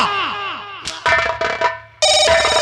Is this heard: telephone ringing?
yes